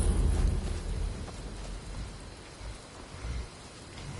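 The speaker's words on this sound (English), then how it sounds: "Looks like rain." Steady rain falls in the Skyrim video game world, a soft continuous hiss of drops with low rumbling ambience, fairly even throughout and no talking over it.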